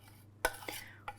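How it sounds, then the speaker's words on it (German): A spoon stirring a chocolate, butter and sugar mixture into egg yolks in a pan, a few sharp scraping clicks against the pan, close and clear with no talking. "Ich rühre das jetzt schön."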